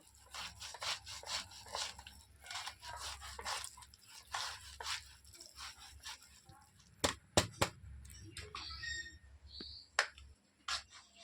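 Peeled palm fruit, first softened with a little water and squeezed by hand, is rubbed against a grater in a quick run of rasping, scraping strokes that thin out into a few sharper knocks and faint drips.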